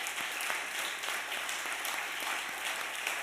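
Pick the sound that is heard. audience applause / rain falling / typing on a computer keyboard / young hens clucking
audience applause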